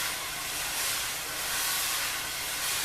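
Wire drum brushes sweep across a drum head in varying directions, giving a smooth, unbroken swish that rises and falls slightly in loudness.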